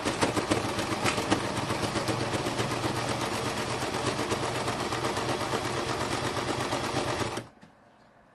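A small, inexpensive sewing machine runs steadily at speed, stitching through a bee-themed junk journal, a continuous close mechanical whir and rattle that stops abruptly near the end.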